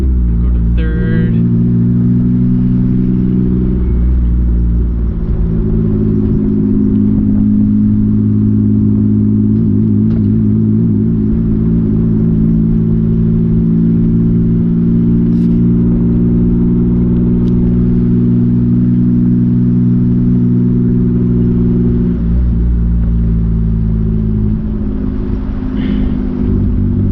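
A Mitsubishi Eclipse GTS with a bad manual transmission shifting gears while driving, its engine droning loud and steady with a brief change in pitch as the gear engages and faint clunks around it.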